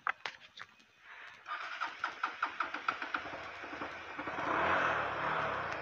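A Honda Verza motorcycle engine cranking on the electric starter with a series of rhythmic turnover pulses, then catching and settling into a steady, close idle.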